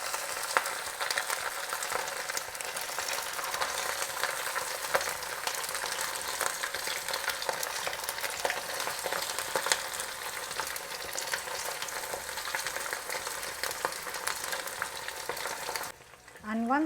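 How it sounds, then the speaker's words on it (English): Chicken pieces for Chicken Manchurian frying in hot oil over medium heat, a continuous close crackling sizzle with scattered pops that cuts off abruptly near the end. "just drop it into the hot oil. Cook it on medium heat until they are cooked nice and golden"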